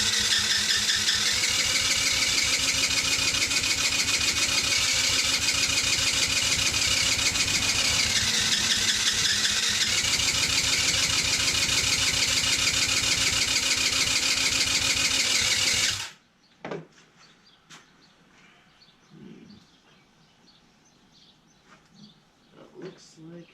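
A Taotao 110cc motorcycle engine, not starting properly, cranks and catches, running with a loud buzzing, uneven drone that rises and falls for about sixteen seconds before cutting off abruptly, leaving faint clicks and handling noises.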